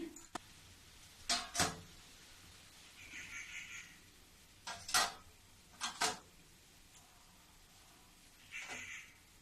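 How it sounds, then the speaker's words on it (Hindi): A steamer plate holding rice papad batter is set onto a pot of boiling water, giving several sharp metallic clinks and clanks spaced across a soft, steady hiss. "अब इसको मैं जाली में रखूंगी।"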